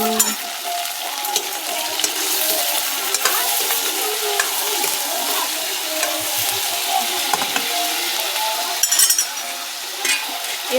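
Ivy gourd (kundru) sizzles and fries in hot oil in a home kitchen, a steady hiss broken by the scrape of a stirring utensil and a few light clinks against the pan, with no one speaking.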